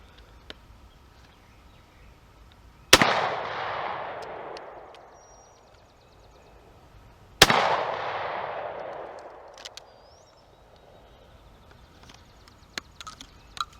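Two loud Winchester shotgun shells fired outdoors several seconds apart, each a sharp blast with a long rolling echo that fades away, followed by faint clicks and handling sounds.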